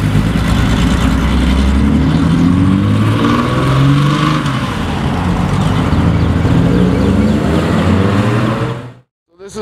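A straight-piped Lamborghini Murcielago LP640, a 700 hp rear-wheel-drive conversion, roars loudly and continuously up close as it pulls away, its deep exhaust note rising and falling with the revs before cutting off abruptly near the end.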